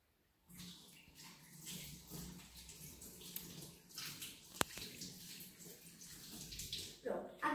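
A spoon is rinsed under a running kitchen tap while making a chocolate mug cake, with a steady splash of water, a sharp clink of metal partway through, and some background chatter.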